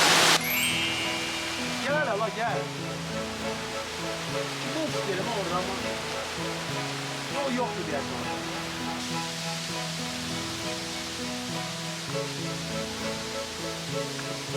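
Galajig Waterfall in Ismayilli, Azerbaijan, gives a steady, full rush of falling water close by, with the continuous roar holding evenly throughout.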